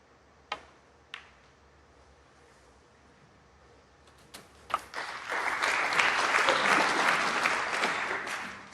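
A few lone claps echo in a quiet snooker arena at the 2023 British Open, then the audience breaks into full, steady applause that builds and carries on.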